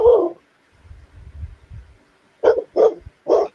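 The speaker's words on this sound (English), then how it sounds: "What are you even barking at?" A dog lets out one bark, then a few low growling grumbles, and finally three sharp barks in quick succession, close by and loud with no talking.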